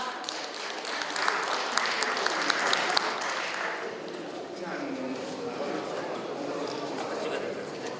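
An audience applauds at a Korean NGO broadcaster's opening ceremony and honorary adviser appointment, a dense, fairly loud patter of many hands that swells and then settles into steady clapping.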